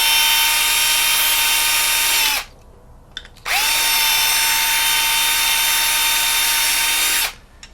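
A power drill with a 1/4 inch bit runs in two loud, steady whirring bursts, each winding down to a stop, separated by a short quiet pause.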